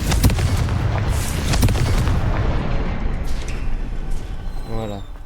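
Confringo fire spell explosions in the video game Hogwarts Legacy: loud booming blasts crowd the opening seconds, then ease into a rumbling tail with a brief rising chime at the end, and a voice talks over them.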